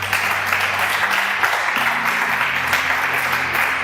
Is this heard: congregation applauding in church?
yes